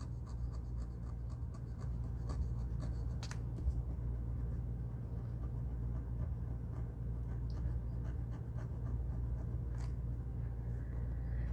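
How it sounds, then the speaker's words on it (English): A blade saws back and forth through the glue along a planner's bound spine, a steady, faint scraping and rasping with light ticks, close by, with no talking. "A little bit of a sawing motion, tilting the blade back towards the spine."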